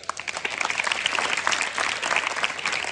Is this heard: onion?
no